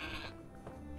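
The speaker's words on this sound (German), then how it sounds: "Eine unglaubliche Ziege." Goat bleating in the video game Trine 4, a short wavering animal call heard at moderate volume, with game ambience beneath it.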